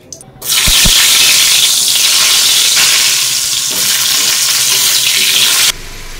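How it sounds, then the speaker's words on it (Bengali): Potatoes frying in hot oil in a kadai give a loud, steady, dense sizzle that holds for about five seconds, then drops off abruptly near the end. "তেল গরম হলে আলুগুলোকে লাল লাল করে ভেজে তুলে রাখবো।"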